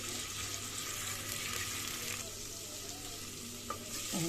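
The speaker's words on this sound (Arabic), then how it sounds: "انا شوحتها والريحه طلعت" Steady oil sizzling as garlic sautés in a pan, a continuous crackling hiss with a faint hum underneath and a small clink near the end.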